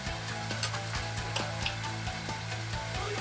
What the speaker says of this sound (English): Cook on medium heat until the beef changes color.